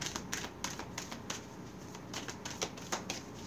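Tarot cards being shuffled during a reading, a soft continuous riffling and patter with faint repeated light snaps, quiet and close against a hissy background, no talk.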